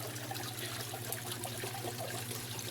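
Water trickles steadily down moss-covered rocks in a waterfall tank, a soft continuous wash and dribble with no talking, steady and close throughout.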